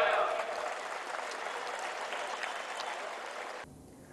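Crowd applause at a political rally, a dense steady wash of clapping from a large audience that carries on for several seconds and then cuts off abruptly near the end.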